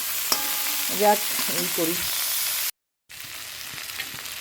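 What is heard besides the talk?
stir-frying in a pan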